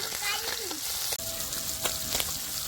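Sardines fry in coconut oil as pieces are laid in and turned, a steady bright sizzle with a few sharp taps from a utensil, close and continuous.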